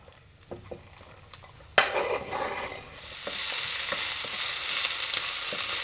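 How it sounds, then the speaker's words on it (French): Onions frying in sun-dried tomato oil, a faint stirring clatter of a utensil in the pan at first, then a steady close sizzle that swells and holds to the end. "Une fois que les oignons ont commencé à griller comme ça"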